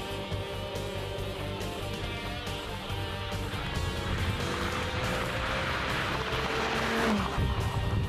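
An Audi R8 sports car with a ten-cylinder petrol engine drives at a steady, continuous engine roar under a busy wash of background sound, moderately loud, with no one speaking.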